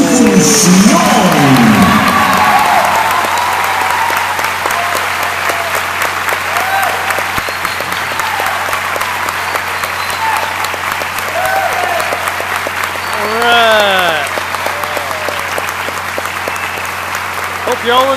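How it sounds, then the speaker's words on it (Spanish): A circus audience in Iguala, Guerrero, Mexico, applauds loudly and steadily, with cheers, whoops and children's shouts rising above the dense clapping throughout. "usted le diga a nuestros artistas, por medio de un aplauso"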